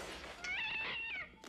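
A cat lets out a single drawn-out, rising and falling meow during a horror film jump scare. The meow is close and clear, followed by a brief thump.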